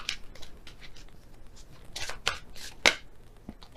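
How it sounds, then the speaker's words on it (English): Tarot cards shuffled by hand in a few quick, soft riffling bursts, close and fairly quiet, ending with a sharper slap near the end; no talking. "So I'll shuffle again and see which one comes out."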